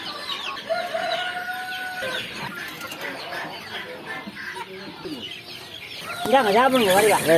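Chickens and young chicks being raised in a netted coop cluck and call throughout, with a rooster's crow rising near the end, the birds close by with scattered voices mixed in.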